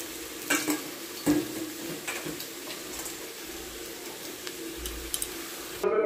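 Chow mein noodles are stirred in a hot sizzling pan, a utensil scraping and clinking against the metal in irregular knocks over a steady frying hiss, close and moderately loud.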